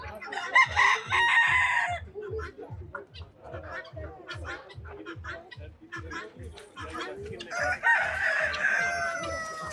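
Large rooster at a desi free-range poultry farm crows loudly near the start and again near the end, with hens clucking steadily between and a brief voice in the background.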